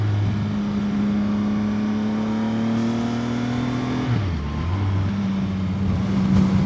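A 2025 CFMoto 675SR-R motorcycle engine hums steadily under riding, its pitch holding then dropping sharply as the throttle is rolled off before rising again, with wind noise and no speech.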